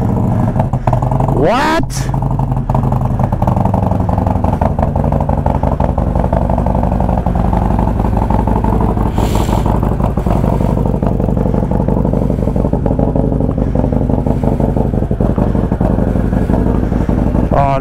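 A Harley-Davidson Road Glide motorcycle engine fires up and settles into a loud, steady rumbling idle with slight revving, close by, with a brief voice near the start.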